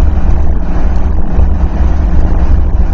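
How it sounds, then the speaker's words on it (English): Strong wind buffets the microphone during a fast ride at about 50, a heavy, continuous low roar with gusty flutter throughout and no break. "wind is just unreal"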